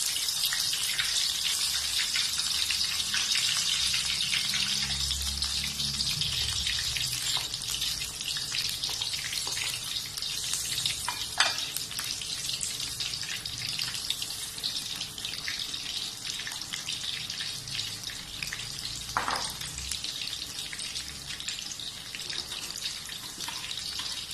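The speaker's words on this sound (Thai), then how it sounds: "เราก็จะนำเห็ดที่เราชุบแป้งลงทอดนะครับ ทอดไฟกลางนะครับอย่าไฟแรงมากนะครับ" Batter-coated mushrooms deep-frying in hot oil over medium heat make a continuous, even bubbling hiss with scattered small pops, steady and close for the whole stretch, with no voices.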